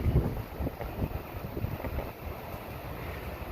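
Steady wind buffets the microphone in rough gusts, with a low rumbling roar and no voices.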